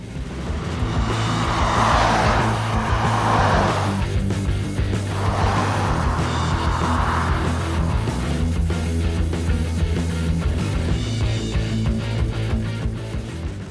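A Volvo S90 T5 with a gasoline turbo engine and eight-speed automatic drives hard in dynamic mode, a steady droning engine hum inside the cabin with two surging swells of rushing road and wind noise.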